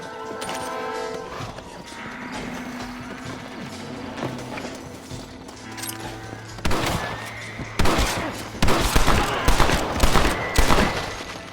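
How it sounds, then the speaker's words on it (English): Gunfire in Red Dead Redemption. A few scattered shots come first, then a dense burst of loud, sharp volleys fills the second half, with mechanical clatter underneath and no talk. "Nice shooting, boy."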